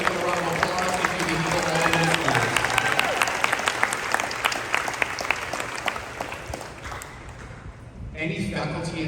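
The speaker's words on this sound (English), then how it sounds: "So let's give them a round of applause." An audience at a senior farewell event claps in a sustained round of applause with dense, rapid hand claps, tapering slightly before a brief renewed swell.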